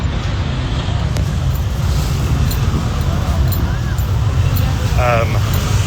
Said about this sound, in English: look at this traffic. Isn't this insane traffic?